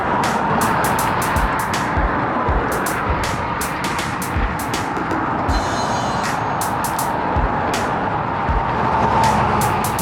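A car passes a group of road cyclists, a steady broadband rush of tyre and engine noise sustained throughout, with wind buffeting and no talk.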